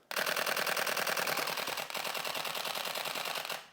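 A camera shutter fires in a rapid continuous burst, a dense, even machine-gun-like rattle of clicks close to the microphone, with one brief dip midway, then stops abruptly.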